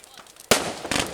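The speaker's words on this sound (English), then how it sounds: "So many colours coming off these fireworks now." Bonfire night fireworks over Whiting Bay on the Isle of Arran burst in the sky, a sharp loud bang followed by crackling and a second burst, heard outdoors with crowd voices underneath.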